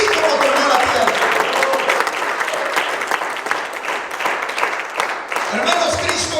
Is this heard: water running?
no